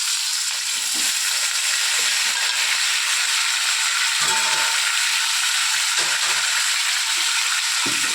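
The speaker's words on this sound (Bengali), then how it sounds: "আলু ডাঁটাটা কিন্তু আমার একসঙ্গে ভাজা হবে" Potatoes and stems frying together in mustard oil, a steady bright sizzle throughout with occasional scraping stirs, close and loud with no voices.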